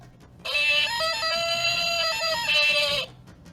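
A tinny electronic sound effect from a small speaker in a Tarzan action figure, triggered by a chest button, plays for a couple of seconds, a wavering, buzzy tone shifting pitch, heard close up.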